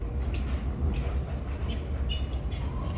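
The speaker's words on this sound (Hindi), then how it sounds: "ट्रेन जा रही है छोटी सी" A small tourist train passing through Strasbourg, a steady near rumble with faint clattering and rolling noise under outdoor street ambience, no talk.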